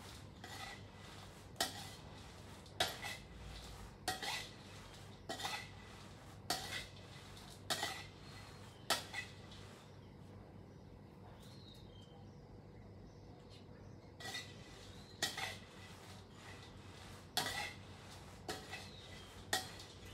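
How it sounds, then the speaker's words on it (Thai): Chillies dry-roasting in a pan for chopped fermented-fish chilli paste, a utensil scraping and clinking against the pan in spaced, repeated strokes over a low background hum. "คั่วพริกเองค่ะ"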